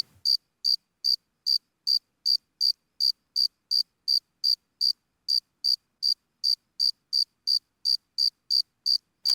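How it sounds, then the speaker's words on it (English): Crickets chirp in a steady, evenly spaced series of bright, sharp pulses, roughly two per second, clear and alone against a silent background in a spring setting. "Cricket chirping."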